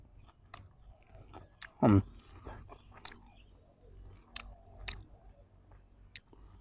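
Someone eats catfish laab with rice, close-up wet chewing and soft bites with one sharp crunch, quiet mouth sounds between.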